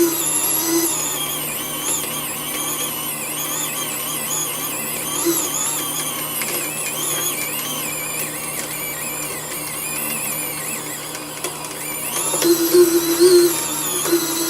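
A Traxxas TRX4 RC winch reels in thick steel cable with a continuous, close, whirring motor drone that wavers in pitch and grows slightly louder near the end.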